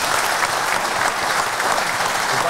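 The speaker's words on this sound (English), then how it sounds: "Just want to give a round of applause to the guys for coming over this evening." Steady, dense applause from a crowd gathered for a live Shrewsbury versus Wrexham evening special, filling the whole moment at an even, loud level with no voices standing out.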